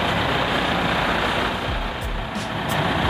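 A 2015 Mitsubishi Pajero Sport Exceed SUV engine idling smoothly, a steady, even broadband rumble held at constant loudness throughout, with faint low thumps near the end.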